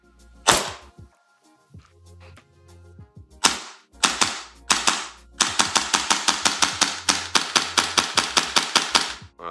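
A gas airsoft gun, custom level 3 build, fires a few spaced shots and then a rapid string of sharp cracks that keeps going until the magazine runs dry. The shots are loud and close, and no one speaks.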